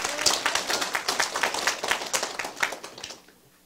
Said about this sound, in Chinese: 好，拍手。